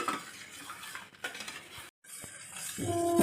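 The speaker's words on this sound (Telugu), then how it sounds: "ఇప్పుడు బెల్లం కరిగేంత వరకు గరిటతో కంప్లీట్గా కలుపుకోవాలి" A ladle stirs melting jaggery in a pot, making soft scraping and clinking against the metal with a faint sizzle, steady and close, with a brief gap in the middle.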